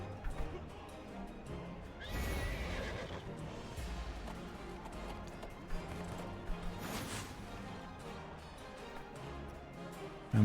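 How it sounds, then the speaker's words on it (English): In an MMO video game, a horse whinnies loudly while hooves clatter underneath, with a second neigh later over a low, busy game background. "I think this was where you needed the horse."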